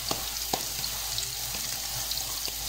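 Beef kebab patties fry on a flat tawa griddle with a steady, close, even sizzle broken by a few faint pops and clicks.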